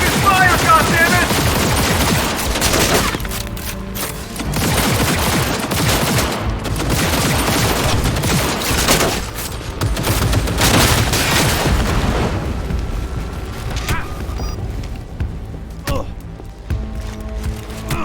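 Sustained gunfire in Cyberpunk 2077, loud rapid automatic bursts and heavy booms layered into a dense firefight, easing into sparser shots and thuds toward the end, with shouted voices mixed in.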